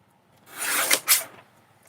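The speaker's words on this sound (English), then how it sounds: "Trim off the edge first." A blade or tool rasps along the edge of a craft piece in one brief scraping pass. The pass swells, then breaks into two sharper strokes before fading, close and fairly loud with no voices.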